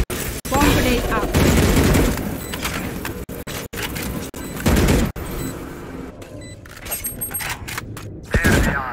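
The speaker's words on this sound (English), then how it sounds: "Placing swarm grenade. Swarm grenade out." Swarm grenades burst during a Valorant scrim match, a rapid, loud crackle of popping shots in dense bursts broken by short gaps, with game sound effects and chirps over the top.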